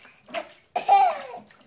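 Cold water runs into a bathtub in two short bursts, a brief splash and then a louder gushing pour that tails off, with a voice faintly mixed in.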